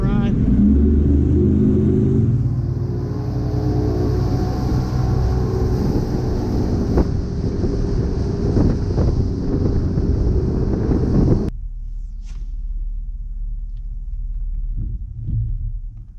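A bass fishing boat running across Melvern Lake, its loud, steady engine roar mixed with wind buffeting the microphone, then the engine cuts to a low idle with a few thumps near the end.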